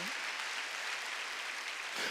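Congregation clapping steadily through a church worship service, a dense, even wash of applause that stays level for about two seconds.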